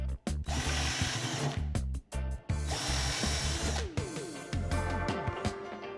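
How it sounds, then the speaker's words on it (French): Power drill boring through a wooden cabinet panel, loud and close, in repeated bursts separated by brief pauses, with the motor whine and bit grinding through the wood; no talking. "Percez sur ces lignes afin de pouvoir les fixer facilement."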